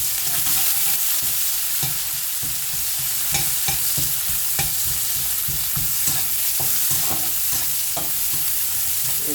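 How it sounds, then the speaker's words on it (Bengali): Dried chillies, onion and garlic fry in oil with a steady, close sizzle, broken by repeated scraping clicks of stirring throughout. "প্রথম দিনে শুকনো মরিচ দিয়ে দিই, পেঁয়াজ রসুন"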